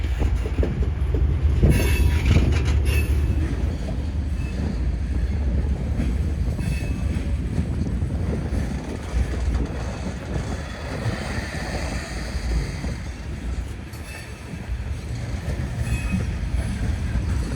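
A CSX freight train rolls through Howell Yard, its wheels rumbling and clacking steadily on the rails at close range, with a brief high squeal near the start.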